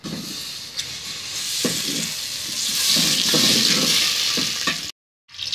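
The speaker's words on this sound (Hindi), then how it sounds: "अब हम इसमें घी डालेंगे।" Ghee hisses in a pot on a village stove, a steady broad sizzle with a few soft clinks and bumps, close and fairly loud, ending in a brief cutout.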